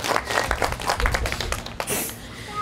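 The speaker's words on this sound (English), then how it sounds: "Saki does love your applause, so if you see something you like, definitely feel free to applaud for her." An audience claps for Saki, a 23-year-old female California sea lion, during a live sea lion show. The applause is scattered and close, mixed with some murmuring.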